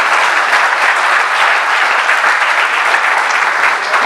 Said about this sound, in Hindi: तो तालियां बजा के बता दे।